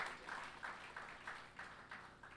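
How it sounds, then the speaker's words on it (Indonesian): Church congregation clapping during a worship service in Malang, Indonesia, heard as a soft, steady patter of many hands with rhythmic pulses, fairly distant and quiet. "Berikan tepuk tangan bagi Tuhan."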